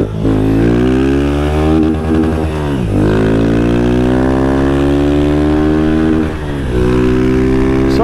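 Honda Fan 160 motorcycle fitted with a Dore exhaust, ridden hard at night: loud, close engine note climbing through the revs, dropping sharply at gear changes about three times, then climbing again.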